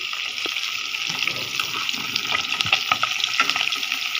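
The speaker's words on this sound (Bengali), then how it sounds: "এগুলো ভাজতেছে এখন" Eggs fry in a pan with a continuous, fairly loud crackling sizzle and small pops scattered throughout. There is no talking.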